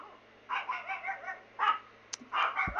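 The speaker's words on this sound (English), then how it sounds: "They're barking at somebody." Several dogs bark in quick bursts, a run of rapid yaps followed by two more clusters of sharp barks, moderately close and with no talk over them.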